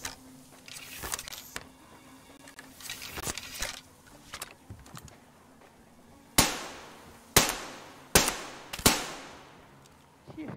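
Gunfire in the post-apocalyptic shooter Metro Exodus: scattered distant pops, then four loud, sharp close shots spaced roughly a second apart over faint background noise.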